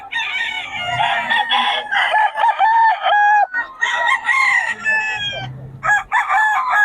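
Chickens from Pangasinan: a rooster crows loudly and repeatedly, close by, with clucking fowl around it and steady farmyard calls filling the whole stretch.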